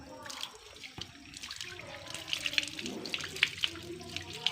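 Water is poured onto a cotton cloth, splashing and trickling with bursts of pouring and dripping; faint voices murmur in the background.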